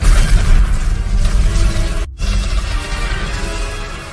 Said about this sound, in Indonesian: Dan ledakan pun terjadi.